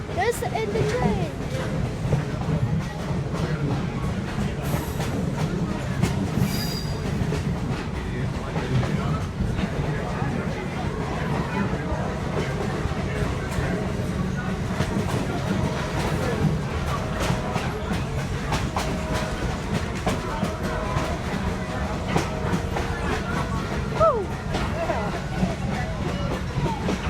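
A steady, continuous rumble of a moving excursion train through the Nantahala Gorge on the Great Smoky Mountain Railroad, with muffled voices and crowd chatter mixed in throughout.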